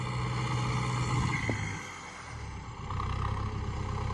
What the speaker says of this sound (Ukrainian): А це попутно дивлюся в роботі тракторця